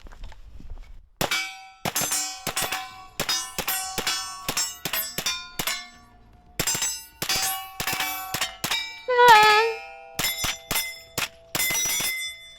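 An MP5-style gun fires in a steady series of sharp, ringing metallic shots, some in quick pairs and bursts, loud and close with bright clanging reverberation after each report.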